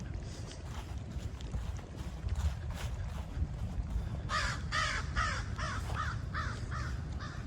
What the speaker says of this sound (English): Lovely sound of crows.